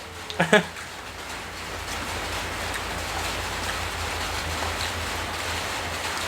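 Rain falling outdoors makes a steady broadband hiss that fills the whole stretch, preceded by a brief burst of a voice near the start.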